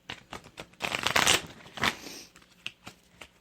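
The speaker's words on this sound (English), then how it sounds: "they were already shuffled, but I am going to just do it one more time." A deck of tarot cards is shuffled by hand close up: a few soft taps and slides, then a ruffling riffle burst, followed by more scattered card flicks and taps.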